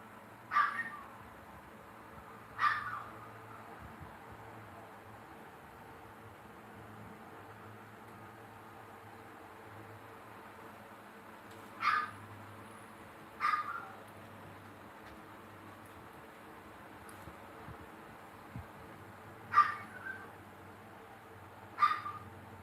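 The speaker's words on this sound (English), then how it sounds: "The dog calling me" Dog barking outdoors on a farm, six short sharp barks in pairs spread over twenty seconds, moderately distant against a quiet steady hum with long pauses between.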